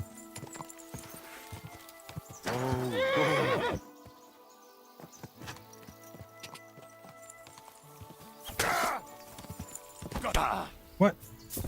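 A horse in the video game Kingdom Come: Deliverance 2 gives two loud whinnies, with intermittent clip-clop of hooves and scattered game sounds between them and a voice speaking at times.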